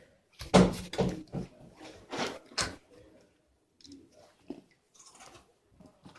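Someone crunches and chews food in the background, with a few loud, crisp bites close together near the start, then softer scattered crunches and faint voices.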